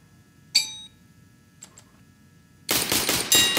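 Pistol shots ring out in CS:GO gameplay: one sharp crack early, a pair of faint clicks, then a quick burst of loud shots at the end.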